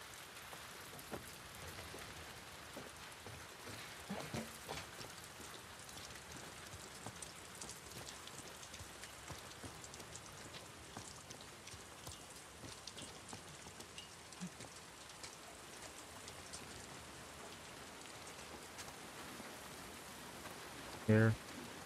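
Steady rainfall patters in The Last of Us Part II, a soft, continuous hiss of drops on surfaces with occasional faint spatters, quiet and unbroken, ending with a brief louder knock.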